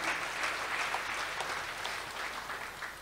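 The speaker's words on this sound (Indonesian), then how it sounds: "tepuk tangan buat Tuhan kita." A church congregation applauds for God during a worship service, a steady, dense wash of clapping that holds at an even level for a few seconds without voices.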